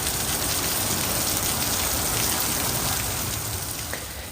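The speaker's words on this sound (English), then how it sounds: "It was a rainy and muggy morning here at home" Steady, dense rain falls on a muggy morning, a continuous even hiss of drops on surfaces with no voices.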